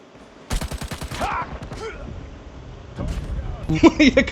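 Bursts of rapid gunfire crackle in quick rhythmic volleys, with game sound effects and a voice talking between the shots.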